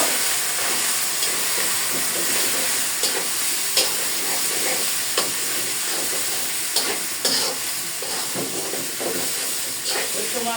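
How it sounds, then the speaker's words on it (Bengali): Boiled leafy greens sizzle and fry in a pan with browned chopped garlic, a steady loud hiss with intermittent stirring clatters throughout, no talking. "রসুন কুচিটা হচ্ছে ব্রাউন কালার করে ভেজে নিয়েছি এখন আমি সিদ্ধ করে শাকগুলো দিয়ে দিব শাকগুলো দিয়ে দিলাম শাকটাকে আমি একটু ভেজে দিব"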